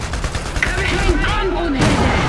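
Gunfire and explosive booms in the 1920+ strategy game Iron Harvest, a steady dense rumble of battle filling the whole moment, mixed with a radio-style voice.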